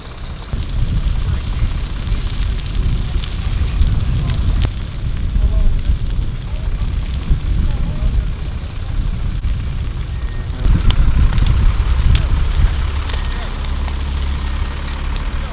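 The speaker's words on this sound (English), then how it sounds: "So they're setting the field on fire right now." A field being deliberately burned outdoors, with a steady broadband roar and crackle of fire mixed with low rumbling, continuous and fairly loud, swelling slightly near the end; people talk intermittently.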